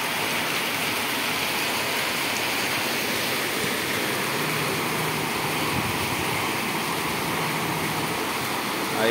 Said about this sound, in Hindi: वहाँ पर ही वो बारिश गिर रही है।